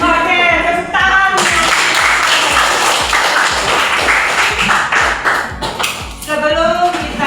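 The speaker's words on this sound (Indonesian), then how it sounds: "oke, tepuk tangan." Schoolchildren in a mathematics classroom clap their hands together in a steady, rhythmic pattern of evenly spaced beats, loud and close, with voices chanting along at the start and end.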